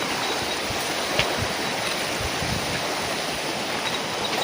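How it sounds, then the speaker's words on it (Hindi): Water of the Narmada river flowing steadily, a continuous broadband rushing like a stream, close and even, with a couple of small splashes. "कितना सुंदर आवाज़ आ रहा है पानी का।"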